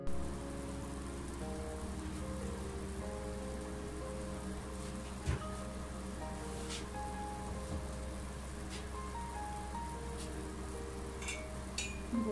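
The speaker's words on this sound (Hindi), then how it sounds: "बॉयल आ गया है यखनी में" Beef yakhni stock for pulao boils in a pot, giving a continuous soft bubbling hiss with occasional pops and a steady low hum in the background, quiet and close.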